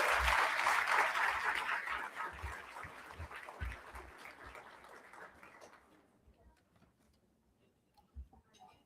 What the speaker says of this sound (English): a round of applause for their work